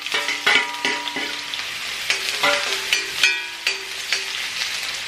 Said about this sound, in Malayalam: ഇതിലേക്ക് കുറച്ച് നമുക്ക് ജിഞ്ചർ ഇട്ട് കൊടുക്കാം.